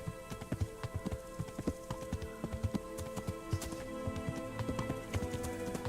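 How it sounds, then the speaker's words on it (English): A horse's hooves clop in a steady walking rhythm in a video game, close and moderately loud, over a faint ambient background with soft tonal hum; no one speaks. "I like Pebbles. He's a nice horse."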